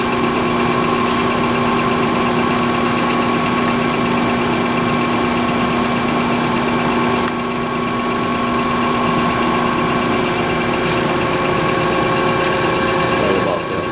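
A K.O. Lee B1020H super-precision CNC universal cylindrical grinder runs with its workhead, wheel head and coolant all going. It gives a loud, constant mechanical hum with steady whining tones that persists unbroken throughout.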